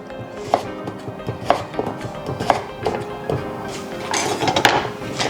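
De-seeded peppers are sliced with a knife on a board for chicken satay, producing about eight close, crisp cuts with knocks on the board at a steady pace, ending in a quicker burst of chopping.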